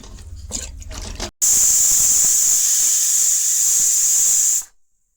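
A pressure cooker boiling local potatoes with dal releases a loud, sustained high steam whistle lasting about three seconds after some quieter kitchen noise, then cuts off abruptly.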